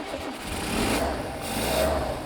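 A Rover P6 engine running again after 30 years off the road, a steady muffled rumble with a faint rise and fall in intensity, heard close with no talk over it.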